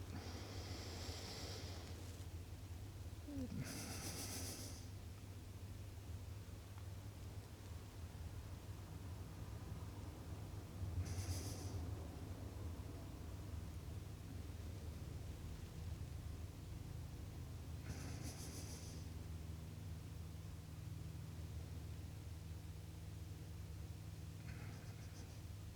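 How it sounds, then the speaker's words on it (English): Slow, soft nasal breaths with the lips closed during a meditative healing breathwork exercise, three or four gentle airy inhale-exhale swells spaced several seconds apart, close and quiet over a steady low background hum. "It's perfect for dry fasting. Now, it's not very active, it's a very meditative healing breath. I'll demonstrate it. I'll do 2 or 3 breaths."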